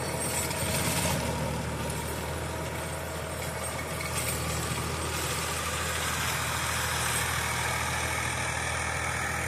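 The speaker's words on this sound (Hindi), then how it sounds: "ये एस ट्रैक्टर 856 DI की मैंने वीडियो दिखाई आपको, ये रोटावेटर पे चल रहा" An ACE 856 DI 32 hp tractor pulls a 7-foot rotavator through a first ploughing pass, giving a continuous loud diesel drone with steady low rumble and broadband churning noise throughout.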